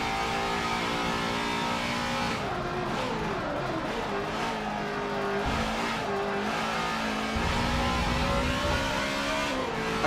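NASCAR race car engines in Forza 7 at Watkins Glen drone with a steady, dense roar, their pitch shifting up and down as the cars rev and change gears throughout, loud and continuous with no talking.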